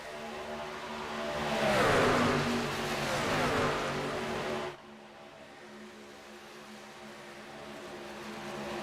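Racing truck engines at Michigan roar past in a steady drone that swells and Doppler-shifts around the two-second mark, then drops abruptly to a quieter, continuous engine hum.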